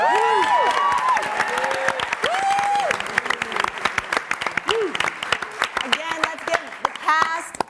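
Audience applause greets the Walking Dead panel guests at PaleyFest 2013: dense, sustained clapping from a large crowd, with a host's amplified voice running over it throughout.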